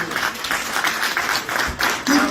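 Applause from an audience at a citizens' meeting in Paris, a dense, steady wash of many hands clapping close by for about two seconds, with a voice briefly rising near the end.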